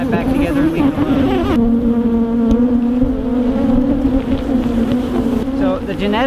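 Angry honeybees swarm around an opened hive, their dense, continuous buzzing loud and close throughout with steady droning tones.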